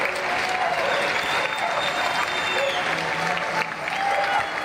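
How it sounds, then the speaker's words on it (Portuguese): Dense applause from many people across São Paulo honouring health workers during the pandemic, a steady crackling wash of clapping heard at a distance, with faint voices mixed in. "Aqui em São Paulo, as palmas foram ouvidas em várias regiões."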